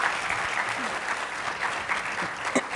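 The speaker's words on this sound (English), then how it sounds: "Why don't we give another round of applause to Dr." Audience applause at a conference event, a dense continuous wash of clapping at moderate distance with faint voices mixed in.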